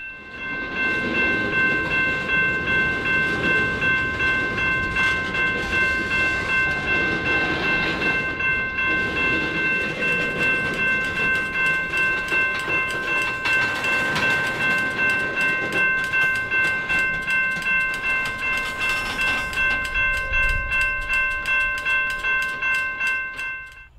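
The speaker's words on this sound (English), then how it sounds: "they pushed back into the siding and onto the rear of the train," A CSX freight train shoving back into a siding onto its rear cars, with a steady rumble of rolling railcars, rail clatter and sustained high tonal squeal from wheels or brakes throughout.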